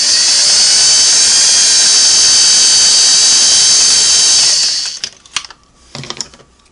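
A Sweetness 401A sewing machine stitches a straight lock-stitch seam at ten stitches per inch, a loud, steady high whir for about four and a half seconds that stops abruptly, followed by a few soft mechanical clicks.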